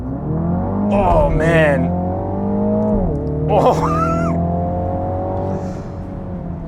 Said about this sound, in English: all we need to do is brake and floor the accelerator